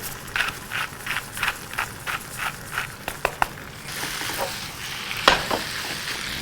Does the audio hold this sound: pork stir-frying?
yes